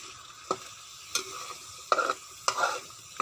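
Chili paste for choo chee curry sizzles softly in a pan, broken by four or five sharp scraping strokes of a spatula at uneven intervals, heard up close with no talking.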